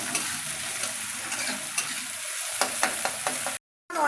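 Chopped onion and green chillies fry in hot oil in a pan, a close, continuous sizzle broken by several sharp utensil scrapes and a brief dropout near the end.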